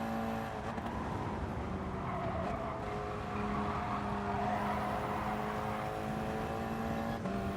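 A Bugatti Veyron in a racing video game, its engine droning steadily and close with rising and shifting tones as it passes, engine note continuous and loud without talk.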